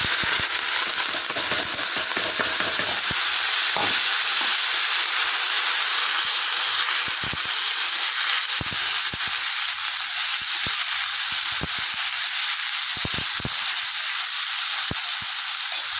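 Onions frying in a pan with cloves, cinnamon, cardamom and bay leaf, a continuous loud hiss and sizzle with scattered small pops and crackles throughout.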